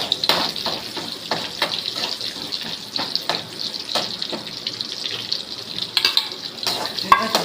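Chana dal and curry leaves frying in a pan give off a steady sizzle, broken by a series of sharp scraping stirs that come irregularly throughout, close and moderately loud.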